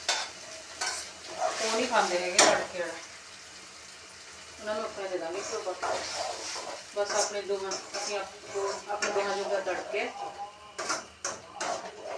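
Hot oil tadka tempering in a home kitchen pan, sizzling steadily while a spoon stirs and scrapes with intermittent clinks, someone talking over the cooking.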